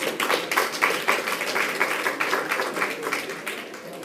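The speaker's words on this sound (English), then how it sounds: "Let's give him a big hand clap." An audience at a gathering gives a round of hand clapping for a returned soldier: dense, rhythmic applause that holds steady for a few seconds, then begins to thin out.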